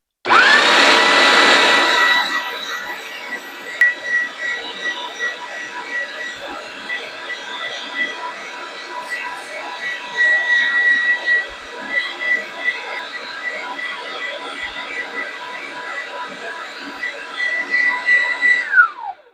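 An AOBOSI electric meat grinder grinds Boston butt pork for sausage. A loud burst at start-up settles into a steady, close whirring motor drone with fluctuating grinding texture, which runs continuously before winding down at the end.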